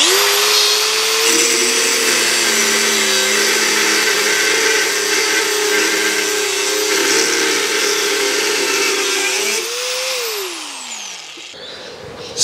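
An angle grinder powered by a portable battery station cuts straight through 10 mm steel rod, a loud, steady high-pitched whine held for about ten seconds before the motor winds down and fades out.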